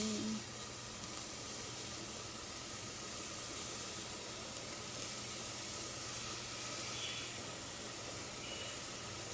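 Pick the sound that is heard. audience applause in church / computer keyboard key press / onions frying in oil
onions frying in oil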